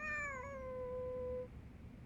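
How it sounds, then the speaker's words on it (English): A single long, drawn-out cat meow, loud and close, with a wavering pitch that falls and trails off after about a second and a half, heard on its own with no talking. "Those guys are meowing like they are kind of scared."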